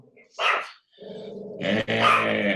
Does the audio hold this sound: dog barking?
yes